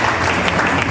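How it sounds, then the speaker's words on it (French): A church congregation breaks into applause after a scripture reading during a sermon, a dense, steady wash of many hands clapping close by, filling the whole moment without a break. "Applaudissez pour la parole de Dieu."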